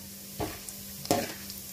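Roasted gram dropped into hot oil gives faint sizzling, with two short bursts of stirring scrapes in a quiet kitchen.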